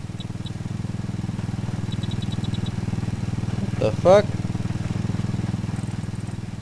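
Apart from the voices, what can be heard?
vehicle motor running in the video game ArmA 3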